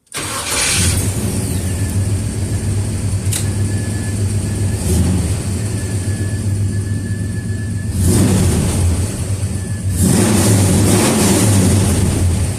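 A Ford E150 van fitted with a swapped 351W V8 engine, heard from inside while driving, with a loud steady low engine drone that swells into stronger revving pushes as it accelerates.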